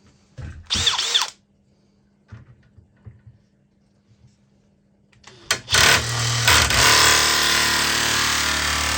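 A power nibbler chews freehand through sheet metal. A short burst is followed by faint handling noises, then the tool starts up again and runs loud and steady, with a close, harsh, buzzing chatter.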